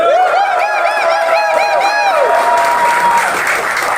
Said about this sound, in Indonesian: Kita berikan aplaus lagi